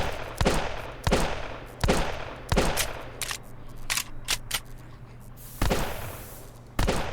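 Gunfire in The High Tower video game: about a dozen sharp, loud shots at uneven spacing, some close together and others separated by short pauses, over a low steady hum.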